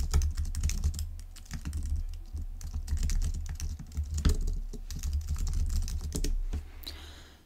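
Computer keyboard typing of custom error text runs as a steady, close clatter of keystrokes for several seconds, brisk and uneven in rhythm, with no voices.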